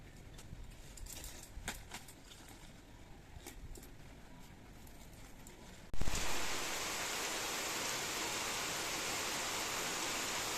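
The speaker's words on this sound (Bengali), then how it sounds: "আবার বৃষ্টি এসে পড়লো" Monsoon rain starts pouring outside: after a quiet stretch a dense, even hiss suddenly swells up and holds steady and loud.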